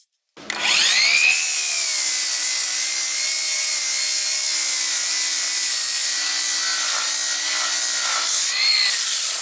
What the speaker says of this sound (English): Let's get that grinder out here. Make it look better.